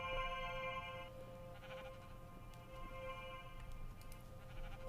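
Sheep bleating in the Minecraft SevTech Ages modpack, two sheep nearby: faint game bleats and soft clicks over a steady background drone, with no talk.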